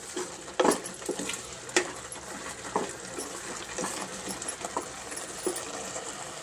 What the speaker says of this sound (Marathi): सतत असं हलवत राहायचं.